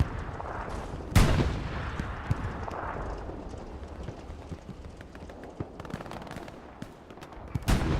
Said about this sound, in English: Are launching some rockets deep